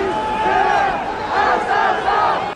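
A dense crowd of protesters roars and shouts together during violent street protests in Paris, a loud, continuous wall of voices with swelling cries.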